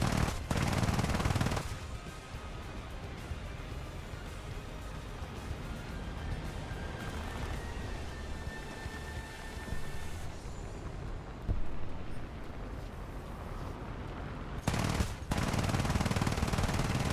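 Aircraft machine guns fire in War Thunder, dense continuous bursts of rapid gunfire that fill most of the stretch, loud and close, with brief louder blasts at the start and end.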